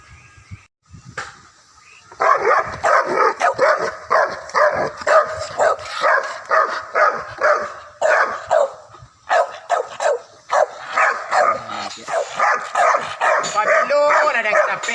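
A dog barks repeatedly in quick, loud, close bursts, with short gaps and a few yips, continuing for most of the stretch.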